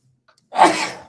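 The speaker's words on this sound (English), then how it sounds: "Oh, excuse the sneeze." A single sharp sneeze, close and fairly loud, after a quick faint intake of breath.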